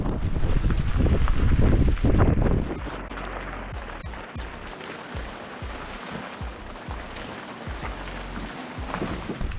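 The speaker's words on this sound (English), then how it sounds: "we just got a real healthy gust. It's really starting to blow out there." Strong wind gusts roar loudly aboard an anchored boat at first, then ease into a steadier blustery rush with scattered patters and knocks, no voices.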